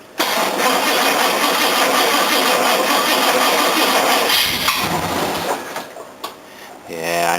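A car engine cranks and cold-starts with no throttle, catching at once and settling into a steady, loud idle close by, then falters near the end before picking up again.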